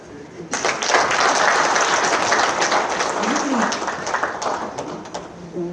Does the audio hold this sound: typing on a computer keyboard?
no